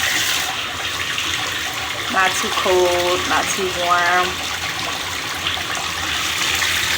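Water runs steadily from a bathtub tap as a bath fills, a constant rushing stream that continues through the whole stretch while someone speaks briefly over it partway through.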